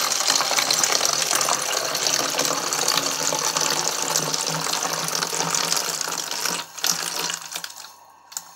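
Ordinary tap water gushes steadily into a container, a loud, broad splashing rush that thins and breaks into a few final splashes before stopping near the end.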